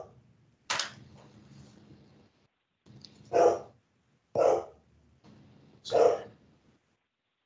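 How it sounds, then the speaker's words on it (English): A dog barks four times during a remote council committee meeting, sharp separate barks spaced about a second apart, fairly close over a quiet room. "I apologize for the barking dog."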